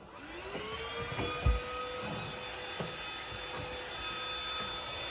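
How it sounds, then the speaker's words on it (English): A vacuum cleaner runs continuously with a steady whining motor tone and a few soft knocks and bumps as it is handled, heard close up with no talking. "this is what I mean by a functional vacuum"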